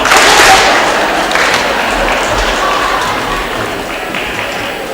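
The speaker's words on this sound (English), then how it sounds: "When I say 1G, you clap once." A graduation crowd at a high school ceremony bursts into loud applause and clapping, a dense roar that peaks early then gradually fades.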